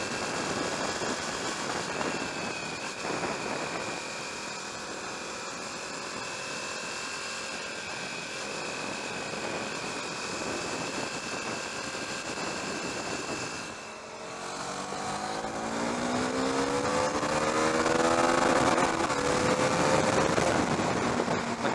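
A KTM Duke 390 motorcycle from 2013 drones loudly through its engine while on a test ride, with a steady tone and then rising, shifting pitch as it revs, under constant wind noise.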